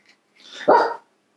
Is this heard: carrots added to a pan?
no